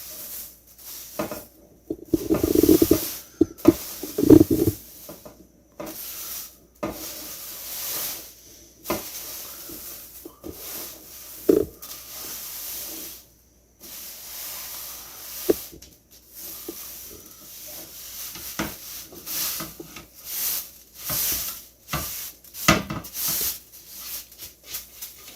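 Brownie batter mixed by hand: intermittent squishing, patting and sticky smacks up close, coming in irregular bursts with short quiet gaps, no voices.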